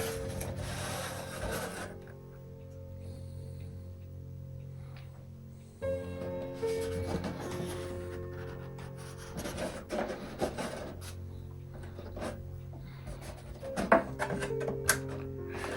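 Grime is rubbed off a Wagner Modellbau travel agent model of the R.M.S. Queen Mary in soft, repeated scraping strokes, quiet and close, over light background music.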